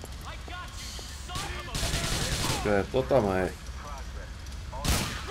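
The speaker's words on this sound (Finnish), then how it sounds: "Ammutaan nyt sekin siitä." Gunfire in the video game Grand Theft Auto IV, a few sharp bursts of shots and a loud blast amid game noise, with someone talking over it.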